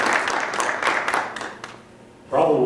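Audience members at a memorial lecture clap for a short burst that quickly fades away, followed by a voice starting to speak.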